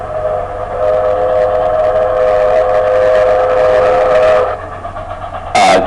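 A train sound effect in an audiobook story, a steady rumbling carriage roll with a sustained whistle tone for several seconds, loud and alone, fading briefly before a sharp burst near the end.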